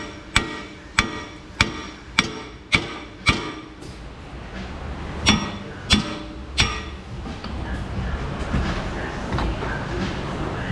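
Hammer tapping a rusted wheel bearing out of the hub of a Ford Expedition 5.4 3-valve 4x4: six sharp metallic strikes in steady rhythm, a short pause, then three more blows before low background noise, close and moderately loud.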